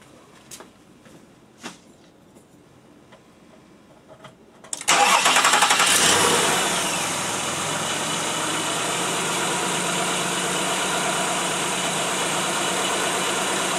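A car engine cranks and catches, bursting loudly to life and then settling into a steady idle, during a fuel pump check valve test, with no talking.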